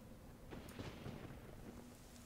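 Steady rain hiss with low rumbling thunder rolling underneath, a continuous stormy wash with no voices, from the video game Little Inferno.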